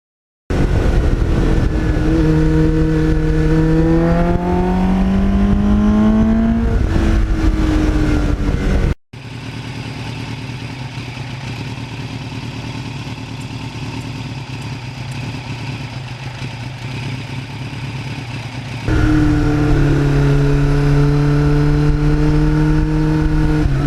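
A 1989 Kawasaki GPX750R motorcycle engine revving loud and close through a Muzzy muffler, rising in pitch through the gears, then a sustained steady drone at speed before another climbing rev.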